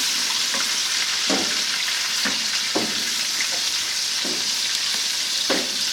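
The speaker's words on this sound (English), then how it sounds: "Now we're going to turn the stuff here on the grill." Rabbit and vegetables hiss in a steady, loud sizzle on a grill, with several soft thumps and scrapes as pieces are flipped over.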